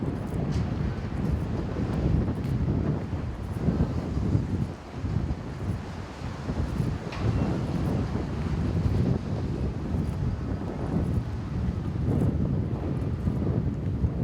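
Strong gusty wind buffets the microphone in a constant loud roar near an observation tower, with no talking.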